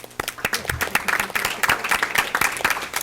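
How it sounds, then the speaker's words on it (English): Audience applause for a student at a school board of education meeting, a steady run of clapping from a roomful of people over about three seconds, with sharp individual claps standing out. "can we all give her a round of applause?"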